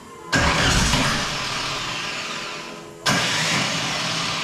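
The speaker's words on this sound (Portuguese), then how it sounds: "Ô, motor, show de arranque." A turbocharged Volkswagen Gol engine cranks and roars to life loudly in a garage on its first start, runs steadily, then a second start burst follows near the end.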